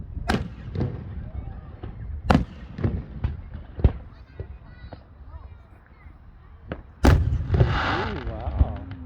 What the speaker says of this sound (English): And there are fireworks going off everywhere.